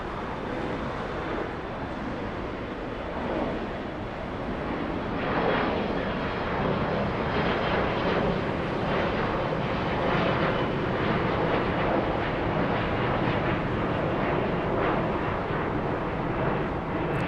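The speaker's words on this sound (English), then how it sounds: "747 on the move." An Asiana Boeing 747 with GEnx engines taxiing at Los Angeles airport gives a steady, loud jet roar that holds through the whole stretch with no talk.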